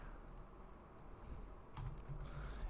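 Computer keyboard typing during a React coding session, a quick run of light key clicks that grows denser toward the end, faint and close against a quiet background hum.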